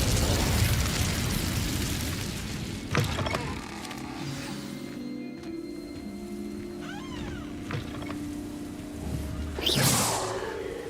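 The Incendio fire spell in the video game Hogwarts Legacy gives a loud whooshing burst of flame at the start, followed by quieter crackles, chimes and magical swishes, then another fiery swell near the end.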